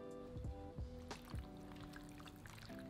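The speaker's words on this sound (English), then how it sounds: "Add the cooked pasta to the pan along with a splash of the reserved pasta cooking water to loosen up the sauce." Reserved pasta cooking water is splashed into a pan of tomato cream sauce with salmon and cooked pasta, a faint liquid pour with soft drips and wet squishing over a low kitchen hum.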